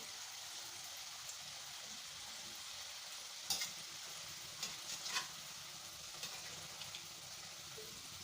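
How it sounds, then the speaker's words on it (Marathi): Manchurian balls fry gently in oil over low heat, making a soft, even hiss and crackle with a few scattered pops and clicks, fairly quiet and without any voices. "कमी हीटवर मी आता हे मंचुरियन फ्राय करून घेते"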